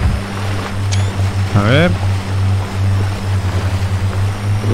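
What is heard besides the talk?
FJ Cruiser driving through a river in video game MudRunner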